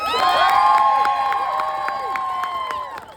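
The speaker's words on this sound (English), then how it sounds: "Can you get a hand of applause for Caroline?" A crowd at an International Women's Day rally cheers for a speaker, with shrill, sustained whoops and cries ringing over fast, even clapping, loud and close, then tapering off.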